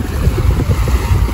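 Strong wind buffets the microphone on the shore of Manila Bay, a loud, continuous low rumble with gusty swells and a faint wash of water behind it.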